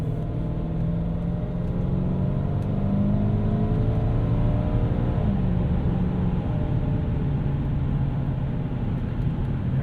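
Steady road drone and engine hum inside a 1998 Lexus GS 400 cruising at about 60 mph on the highway, a continuous even rumble with faint whirring and no talking.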